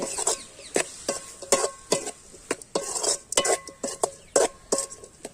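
Rice and wild mushrooms are stirred and tossed in a pan for a village-style mushroom fry, giving repeated sharp scraping strokes in an uneven rhythm, close and fairly loud with faint sizzling between them.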